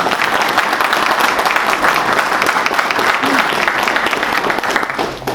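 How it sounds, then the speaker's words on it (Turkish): A large crowd applauds steadily and loudly throughout at a Turkish municipal mayoral event, a dense wash of clapping with faint voices mixed in. "hepinizi alkışlamak istiyorum arkadaşlar"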